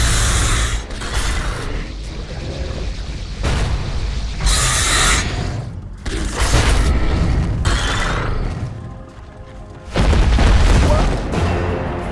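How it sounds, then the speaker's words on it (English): Dota 2 tower under attack, with continuous loud booming impacts, bursts and rumbling battle effects in several heavy surges, and a louder blast near the end. "Radiant's top tower is under attack."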